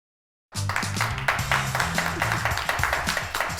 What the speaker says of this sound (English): I'm just gonna clap for myself.